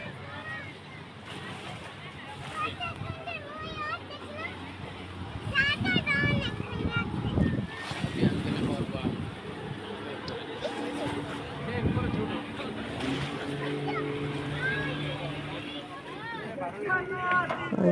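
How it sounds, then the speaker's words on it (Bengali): A speed boat runs on water at a holiday park, giving a broad, rushing wash of wind and waves with a low engine hum at a distance, under frequent talk and background crowd voices. "তো ওই যে দেখেন একটা স্পিড বোট,"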